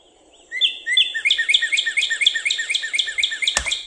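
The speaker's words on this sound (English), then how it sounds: "Their song is something like this. Northern cardinal." A northern cardinal sings a clear, loud run of slurred whistled notes, starting with a couple of longer notes and then a rapid string of repeated chips, ending with a sharp knock.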